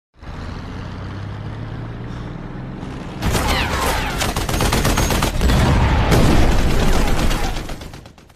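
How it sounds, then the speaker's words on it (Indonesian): Heavy rapid gunfire erupts after a low rumbling start, dense crackling bursts continuing loudly for several seconds before trailing off. "muncul Bruno yang tiba-tiba membrondolinya dengan tembakan"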